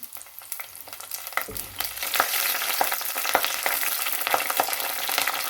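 Curry leaves drop into hot oil with fennel and mustard seeds in a village clay pot, bursting into a loud, crackling sizzle that continues steadily with spattering pops, no voices.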